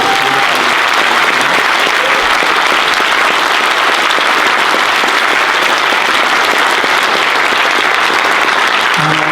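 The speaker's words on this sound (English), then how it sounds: "So I suggest another round of applause for the actors." An audience at a Palfest event applauds the actors in a dense, loud, sustained ovation of many clapping hands, unbroken from start to finish with no talk above it.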